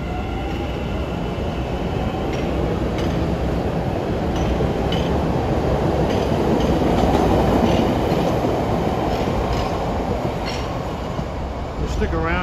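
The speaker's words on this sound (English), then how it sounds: "We got a Forest Hills bound train leaving Sullivan Square." A Forest Hills bound MBTA train pulling out of Sullivan Square station in Boston, a loud steady rumble with rhythmic wheel clatter and faint squeal, with occasional talk underneath.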